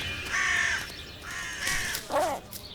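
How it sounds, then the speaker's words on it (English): Crows caw in the city of Paris, several harsh calls in a row at moderate distance, with a hoarser final caw and quiet background between them. "Crows are afraid of Vixen, but not a little fox cub."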